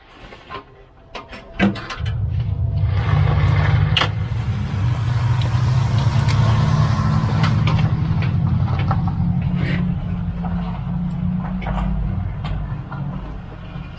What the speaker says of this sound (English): It's an Audi, big Audi SUV thing. You know, electric thing, hybrid thing. It sounds like a spaceship.